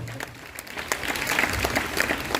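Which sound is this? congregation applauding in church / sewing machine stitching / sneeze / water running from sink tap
congregation applauding in church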